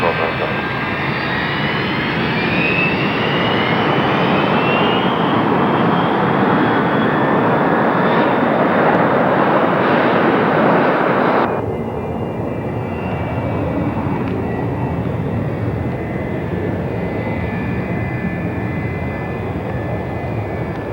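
Airliner taking off from runway 26 left at Stapleton International Airport in 1990: a loud, sustained jet roar fills the scene, then drops abruptly to a thinner, steadier rumble as the aircraft moves away.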